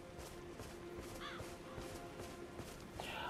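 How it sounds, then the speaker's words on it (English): Crows caw in Elden Ring, two harsh calls spaced apart over a quiet ambient game background with faint footstep-like taps. "I don't like hearing the birds."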